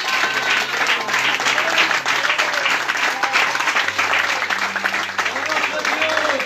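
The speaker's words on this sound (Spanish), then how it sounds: "Qué flojo ese aplauso" Church congregation applauding during a service for newly baptized members: continuous, fairly loud clapping from a crowd, with voices and a low sustained tone underneath.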